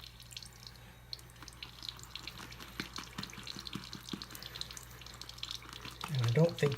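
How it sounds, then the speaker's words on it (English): Wet, squelching swirls of a shaving brush lathering CBL soap in a bowl, steady soft crackling and dabbing close up, with a brief voice near the end. "So that is a quick bowl lather."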